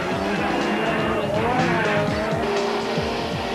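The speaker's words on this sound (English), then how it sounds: "Piazzamuso took the early lead in the race, Coetzee soon moved past and into the lead, the Toyota Super Truck obviously handling much better than the Ford" Toyota and Ford Super Trucks race in a 1997 Super Series event, engines roaring loudly and continuously with rising and falling revs as the trucks pass close by.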